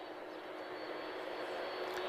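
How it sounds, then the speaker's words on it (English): ASL Airlines airliner arriving at Lisbon Airport, a steady distant jet engine roar heard faintly and evenly throughout the short stretch, with no voices. "So this is ASL Airlines, arriving from Casablanca."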